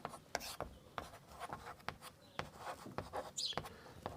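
Chalk or marker taps and scratches across a board during a class-10 maths lesson on triangles, a quick irregular run of short strokes, close and fairly faint.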